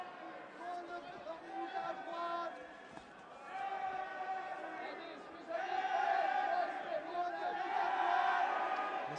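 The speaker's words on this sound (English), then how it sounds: "This crowd at cage side chanting Eddie Ng's name" Cage-side crowd at an MMA event chants a fighter's name, rhythmic massed voices rising and swelling in waves, fairly loud and continuous.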